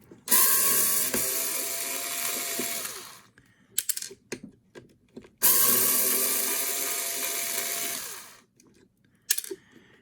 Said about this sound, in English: let me start by taking these 2 screws off